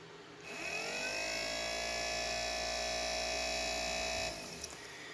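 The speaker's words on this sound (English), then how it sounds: "I'll reverse polarity and go in the other direction. Again. High torque, high revolution." A restored vintage Cadillac power seat motor (1959–1976 mechanism) whirs steadily at high speed, spinning up with a rising whine, holding a bright sustained tone for about four seconds, then cutting off; close and loud with no talking.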